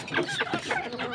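Chickens clucking on a poultry farm, a quick burst of short clucks close by, lasting barely over a second.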